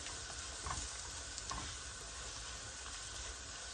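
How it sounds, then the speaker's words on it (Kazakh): Onions sizzle steadily in a hot pan, with a few soft stirring scrapes rising over the quiet, even crackle. "Пиязымыз, жуамыз, яғни жақсылап қуыру керек"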